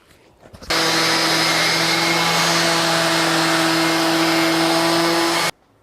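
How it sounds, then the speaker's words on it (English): An orbital sander with coarse-to-fine grit sandpaper whirs loudly and steadily against the wood of a table for about five seconds, starting abruptly and cutting off at the end. "I'm going to use 80, 120, and 180 grit sandpaper in my orbital sander."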